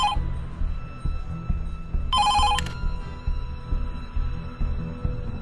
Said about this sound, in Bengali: ফোনটা বাজছে, একটু ধরো না।